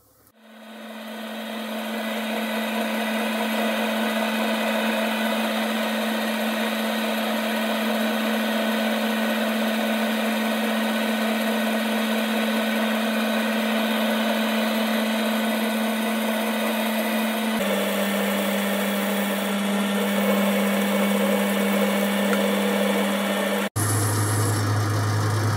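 Metal lathe facing off a steel workpiece for a cam vice handle: a steady, loud machine hum with a strong low whine runs continuously, shifting pitch slightly near the end, with no talk.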